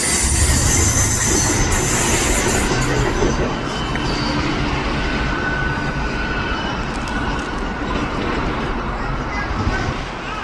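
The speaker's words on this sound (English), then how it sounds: "let's see some more trams before we call it a day." A Manchester Metrolink tram runs past a station with a loud, continuous rumble and rolling wheel noise throughout, with faint wheel squeal in the mix.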